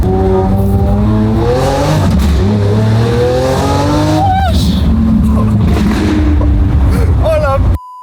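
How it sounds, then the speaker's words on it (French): A sports car engine revs hard and climbs through rising pitch sweeps in the city of Dubai, loud and close, with excited voices speaking over it before it cuts off abruptly. "C'est quoi cette voiture de ouf?"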